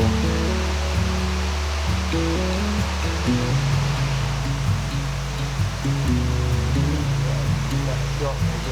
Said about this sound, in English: Come down to the mill race, that'll be taking water probably to a mill down in Irwell Vale.